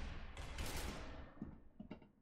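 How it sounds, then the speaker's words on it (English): Rapid gunfire in the video game SCP: Secret Laboratory comes as a dense, rattling burst of shots, fading into a few scattered distant pops. "Just ignore the gunfire, it's fine"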